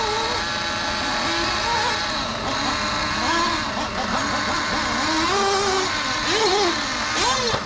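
A 1/8 scale nitro RC buggy engine screams loud and close at a test and tune track day, its pitch rising and falling steadily as the throttle is worked throughout.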